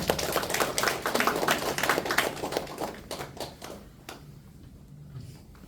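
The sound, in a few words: audience applause at a lecture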